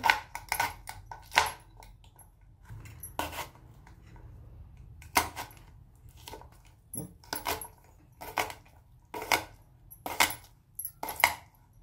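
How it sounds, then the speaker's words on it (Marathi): A knife chops tomatoes into small pieces on a board, the close, sharp taps coming in short quick bursts separated by pauses. "आता आपण टोमॅटो कापून घेऊ आधी। अशा बारीक फोडी करायची आपल्याला।"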